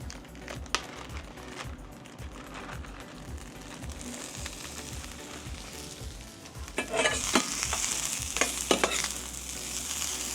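Veggies stir-frying in about a tablespoon of hot oil for veggie lo mein with tofu, a continuous close crackling sizzle with spatula scrapes and taps that grows louder and busier toward the end, with no voices.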